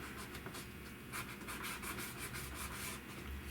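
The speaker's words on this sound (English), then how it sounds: "I have just a piece of 600 grit sandpaper here" Close, quiet rubbing of 600-grit sandpaper over a plastic car bumper, a continuous gritty scratching with rhythmic back-and-forth strokes.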